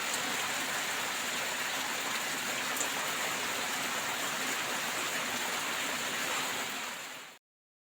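Steady rain falls in a village setting, a dense, even hiss of drops on surfaces that holds at one loud level throughout before cutting off abruptly near the end.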